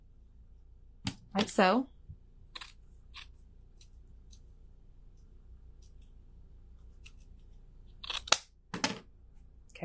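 Scissors cut ribbon in half for making bows, with a few quick close snips in two short bursts. Long quiet gaps separate the bursts, and a person speaks briefly.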